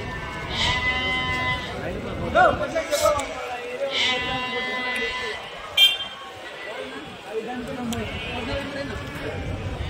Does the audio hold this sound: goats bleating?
yes